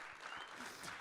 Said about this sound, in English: Good clap.